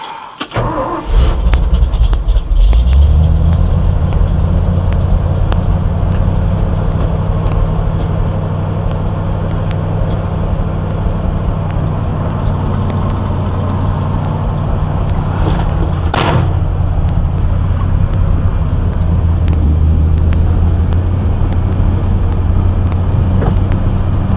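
An old farm truck engine starts and runs with the choke pulled on a cold day, a steady loud idle rumble close by after a brief start-up, with short clanks and a sharp knock midway.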